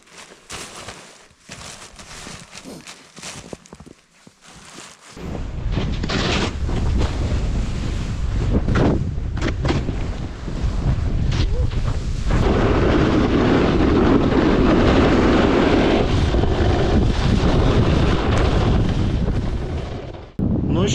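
Strong wind roars into the microphone on a snowy ski slope during snow kiting with a 14-metre kite, starting as faint gusty rumbles, then a loud sustained buffeting rush after about five seconds.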